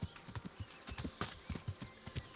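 Horse hooves clip-clop in a steady, even rhythm of hollow knocks, close and moderately loud, with no talking over them.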